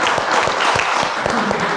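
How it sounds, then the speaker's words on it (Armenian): A studio audience applauds to welcome a special guest onto a show, a short burst of loud, dense clapping close by. "ծափարություններով դիմավորենք մեր այսօրվա հատուկ հյուրին"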